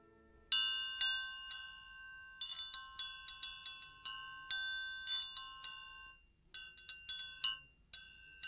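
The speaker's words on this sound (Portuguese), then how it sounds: "Triângulo." A metal triangle is struck repeatedly in an orchestral instrument demonstration, with bright, ringing pings in an uneven rhythm, some single strokes and some quick rolled clusters, each decaying cleanly against silence.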